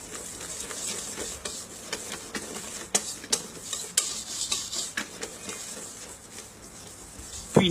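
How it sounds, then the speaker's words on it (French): Stirring for macarons, mixing egg whites with the first portion of powdered sugar, gives soft scraping with scattered sharp clicks of a utensil against a bowl, close and moderately quiet throughout. "Mélanger l'ensemble."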